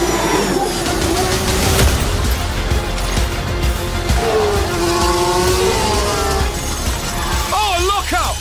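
F1 race cars in the F1 Manager 2023 game roar continuously through a sprint at the LaSalle International Circuit, a dense, loud engine wash with possible tyre squeal, heard under a commentator's voice.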